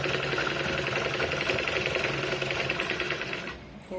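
A sewing machine runs in one continuous, even stitching burst while sewing a blouse front, its rapid mechanical chatter close and steady before slowing and stopping at the end.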